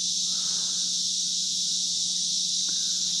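Cicadas drone loudly and steadily at a creek in the early morning, a dense unbroken high-pitched buzz filling the air with a faint lower hum beneath and no voices.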